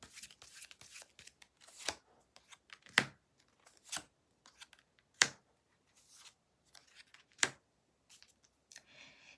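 Tarot cards being drawn and handled at close range: a quiet run of crisp card snaps and soft papery rustles at irregular intervals, with no talking.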